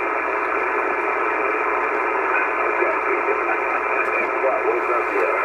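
Steady band noise from an ICOM IC-730 HF ham radio transceiver on the lower end of a band: a continuous, even hiss of static heard alone, with no change in level for the whole stretch.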